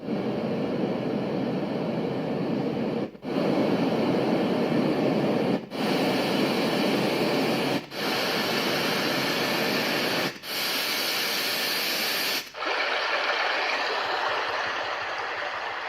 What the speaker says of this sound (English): And now we're going to be going through the white noise sounds.